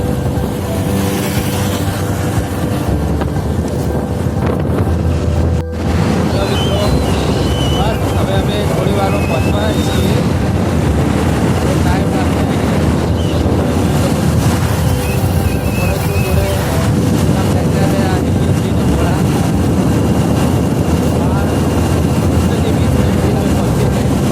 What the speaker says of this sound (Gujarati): અત્યારે અમે હાલમાં બાઇક પર છીએ અને હું ડ્રાઈવ કરી રહ્યો છું